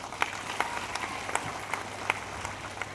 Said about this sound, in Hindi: आप लोग जोरदार तालियां बजाएं